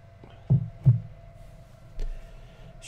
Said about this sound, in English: Strange vibrating noises.